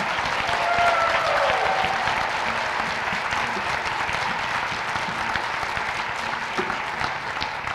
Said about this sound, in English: Let's give all of our Teachers of the Year one more round of applause.